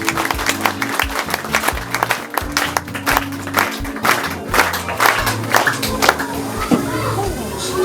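A church congregation in Hawassa bursts into loud, dense clapping that carries on steadily, mixed with cheers and excited voices.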